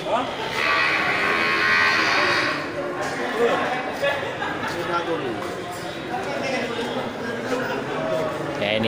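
A large male buffalo bellows with a couple of drawn-out moos among other buffalo at a trader's livestock pen for fattening and slaughter stock, with steady background chatter from people nearby.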